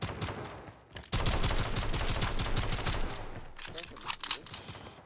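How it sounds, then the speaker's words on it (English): Rapid automatic gunfire from players shooting each other in COD Mobile, a dense, sustained rattle of shots that thins into scattered bursts, loud and close throughout. "I hear people shooting each other"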